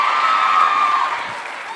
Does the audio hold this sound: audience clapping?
yes